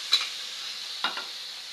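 Corned beef frying in a pan for spaghetti, a steady sizzle throughout with two brief stirring scrapes near the start and middle, close and moderately loud, with no talking.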